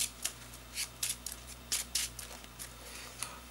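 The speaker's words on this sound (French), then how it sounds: "Je vais piger 6 cartes." Playing cards are drawn one by one from a deck in a card game, a series of soft quick flicks and slides repeated at an uneven pace over a faint background hum.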